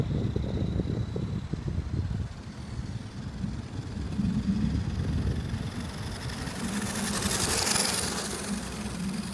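An RC car fitted with a Titan 550 12-turn electric motor drives past close by, its steady motor whine and buzzing drive noise running throughout and swelling near the end as it passes.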